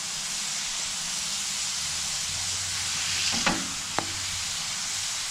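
Burger patties and onions sizzling on a grill, a steady loud hiss of frying fat with a couple of sharp spatula scrapes and taps near the end, no talking.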